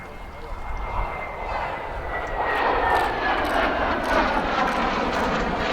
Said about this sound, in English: Trapper's just bringing the Sabre in now.